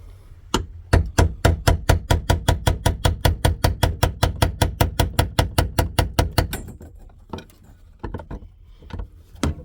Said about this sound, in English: let's hope we can get lucky and hammer off that brass ring